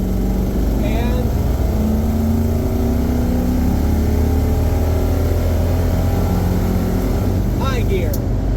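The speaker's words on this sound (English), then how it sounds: "we're gonna pull out here, then I'll get on the gas a little bit" A 1961 Buick Skylark pulling out and accelerating in low gear, its engine drone rising steadily in pitch from inside the car, loud and continuous, with a person talking over it.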